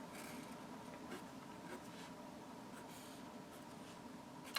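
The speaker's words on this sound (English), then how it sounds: "I'm going to go ahead and write it the following way." Pen or marker scratching as an equation is written out by hand, quiet and close, with short strokes and taps in an otherwise silent room.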